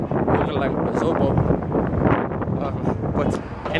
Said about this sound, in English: And it's windy, I'm sorry, I apologize for the wind